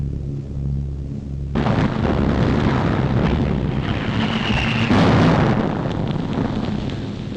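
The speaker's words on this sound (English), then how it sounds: "That was a bomb." Wartime bomb explosion in London during the Blitz, a sudden loud roaring blast breaking over a low rumbling background, followed by a sustained heavy rumble and a second swell, distant and without voices.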